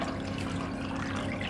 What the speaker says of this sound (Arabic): هلا بدي احط مية الصماء فوق اللحمة بعد ما انسلقت واستوت